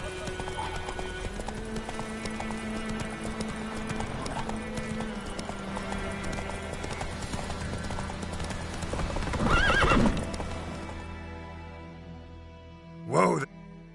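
Roach, the horse in The Witcher 3, gallops with a rapid, continuous clip-clop of hooves, close and steady, then neighs loudly near the end. Game voices talk over part of it.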